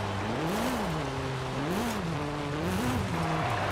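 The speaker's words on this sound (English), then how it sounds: "And I really like that stock raspy exhaust." A car in Forza Horizon 5 with its stock raspy exhaust revs up and down through gears, engine pitch rising and falling in repeated sweeps, loud and continuous with no talk.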